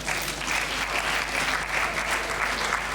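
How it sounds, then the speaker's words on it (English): Steady, dense applause from an international conference audience, clapping continuously at an even volume throughout. "I think he deserves a round of applause."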